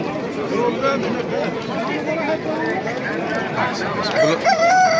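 Roosters and hens at a poultry market in Namangan crow and cluck amid a busy crowd, with a crow rising clearly near the end over constant chatter and nearby voices.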